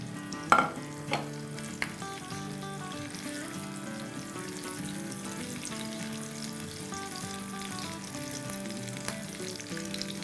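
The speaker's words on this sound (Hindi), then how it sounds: "अब इस पॉइंट पर हम अपनी कुछ कटी हुई हरी मिर्चें, कुछ लाल मिर्चें ये डाल देते हैं।" Chopped green and red chillies sizzle in hot oil for a tempering, a steady close frying crackle with a few sharp pops near the start and no talking.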